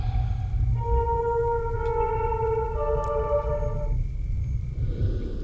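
A short piano melody from the video game Fatal Frame: Mask of the Lunar Eclipse, a few sustained tones played over a low ambient rumble, heard alone.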